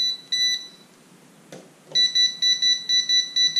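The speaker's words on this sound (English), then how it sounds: "First thing you might want to do is get out your non-contact volt tester" Non-contact voltage tester detecting a live electrical circuit, sounding loud, rapid high-pitched beeps in short bursts, then a brief pause with a click before a steady run of evenly spaced beeps resumes.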